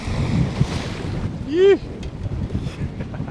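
Boat riding through big waves in strong wind on Lake Sakakawea, with buffeting wind noise and hull slapping, plus a brief rising whine from the motor midway and a short exclamation from a voice.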